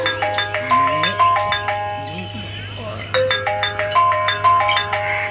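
A mobile phone plays a melodic ringtone while a call is being placed, repeating its bright chiming pattern close by over a steady background hum, pausing once before starting again.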